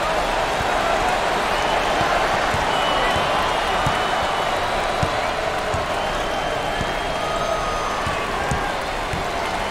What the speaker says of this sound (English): The crowd is completely behind their team.